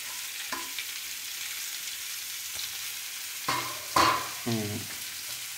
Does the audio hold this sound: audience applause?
no